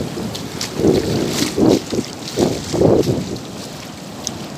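Ocean waves roll onto a beach in a steady series of four or five surges, each swelling and receding, with heavy wind buffeting the microphone throughout.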